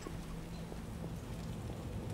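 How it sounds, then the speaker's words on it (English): Steady rain in The Witcher video game, a dense even hiss of drops falling on surfaces, continuous and moderately loud with a faint low rumble beneath. "Chill out, dude. It's just rain."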